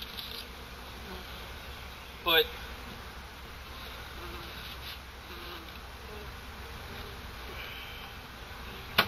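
Honey bees buzzing around beehive supers during a hive inspection, a faint continuous hum with a few brief knocks and one short spoken word.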